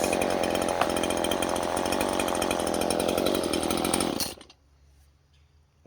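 A Stihl MS-150C rear-handle chainsaw cuts through pinewood, its loud, steady high-revving whine held for about four seconds before cutting off abruptly to a quiet idle-like murmur.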